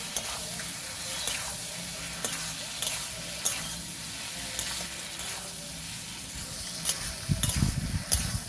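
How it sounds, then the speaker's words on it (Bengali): Potatoes sauté with spices in a pan for a village-style mourala fish teljhal, a quiet, steady sizzle marked by spatula clicks and scrapes that grow louder and busier at the end. "মশলার সাথে আলুটাকে ভালো করে কষিয়ে নেব"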